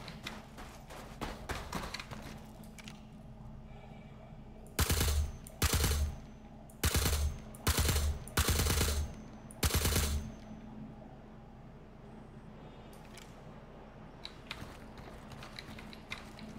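Machine gun fire in a video game comes in several sharp, loud bursts in the middle, with quieter mechanical clicks and ambient game noise before and after.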